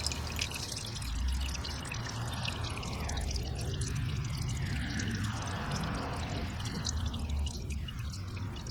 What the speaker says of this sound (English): until that thing stops pouring, you just keep letting it drain